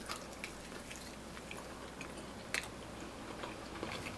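Someone chews a homemade vegan hot pocket dipped in ranch, with big pieces of onion inside, producing close, soft, wet biting and mastication sounds with a few sharper crunchy bites.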